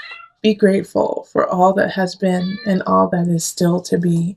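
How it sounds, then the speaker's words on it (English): A pet kitty lets out a short meow at the start, then a calm voice speaks steadily over the rest, with the cat's sound partly blending under the talk. "And you can hear our little kitty talking to you too."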